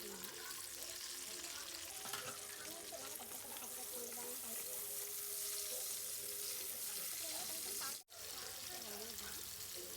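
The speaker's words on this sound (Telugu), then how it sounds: "ఇప్పుడు ఆయిల్ హీట్ అయిన వెంటనే ఒక బిర్యానీ ఆకు వేసుకుందాము దీనివల్ల ఫ్లేవర్ బాగుంటుంది అలాగే ఆనియన్స్ కూడా వేసేసి" Bay leaf and onions frying in hot oil in a pan for a mixed vegetable curry, with a steady close sizzle that continues throughout and one brief dropout near the end.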